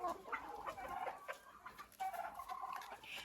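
Hens cluck softly and irregularly close by, a few short throaty calls overlapping in a quiet setting.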